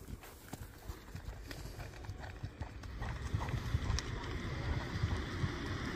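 A horse running fast, giving a steady, brisk clip-clop of hooves that builds in loudness, with wind noise and rumble outdoors.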